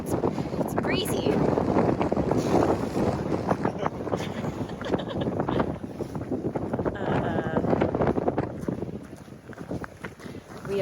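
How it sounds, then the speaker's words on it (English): Strong wind buffets the microphone on the Hooker Valley Track in Mount Cook National Park, New Zealand, a constant loud rushing roar that swells and eases throughout. "Oh, it's breezy."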